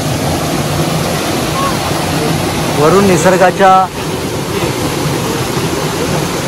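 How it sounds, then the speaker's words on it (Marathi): A natural waterfall in Konkan, near a water pool at a goddess shrine, gives a constant broadband roar. Several voices talk loudly over the rushing water in the middle. "नॅचरल धबधबा"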